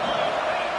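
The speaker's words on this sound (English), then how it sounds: "Home crowd trying to make a difference on fourth down." Home football crowd roaring on a fourth-down play, a dense, steady wall of cheering and whooping from a large stadium audience with no letup.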